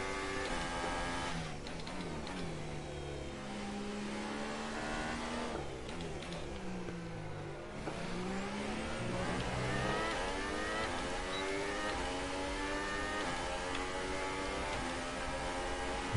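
F1 race cars in F1 2018 scream past one another during a close league race in France, high engine whines sweeping up and down through gear changes, loud and continuous with no talk.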